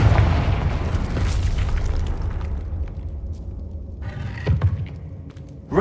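A booming fire spell explosion in the Hogwarts Legacy video game, a loud low rumbling blast that slowly fades, followed by a fainter second thump.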